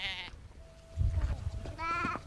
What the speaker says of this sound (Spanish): Las ovejas son muy importantes para nosotros porque nos dan lana, leche y carne.